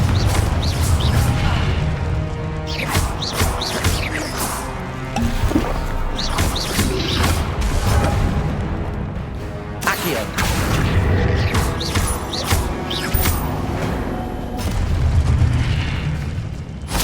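Repeated booming fire blasts from the Confringo explosion spell in Hogwarts Legacy, several loud bursts amid dense game music and effects, with some crashing debris.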